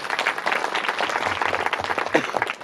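A crowd at an indoor gathering breaks into warm, continuous applause to welcome speaker Rajeshji Patil, many hands clapping densely and close for the whole stretch.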